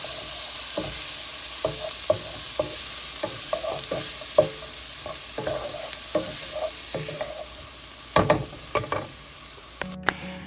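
Onions and garlic sizzle in melted butter in a pan, a steady frying crackle close by, broken by repeated clicks and scrapes of stirring.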